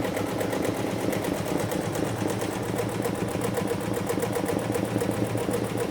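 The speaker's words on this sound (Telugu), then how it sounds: "నేను ఇప్పుడు multi colour థ్రెడ్స్తో computer embroidery work వేస్తున్నాను" A computer embroidery machine stitching with multi-colour threads runs in a steady, fast mechanical chatter, loud and close with a constant rhythmic buzz that does not let up.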